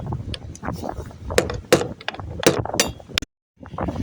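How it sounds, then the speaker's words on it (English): Sharp metallic taps ring out as a bolt is knocked out of a beach-found tacking outrigger, several distinct close strikes amid clinks and handling noise, ending in a brief silence. "I just need to tap that out. It would be easier if that was a proper bolt."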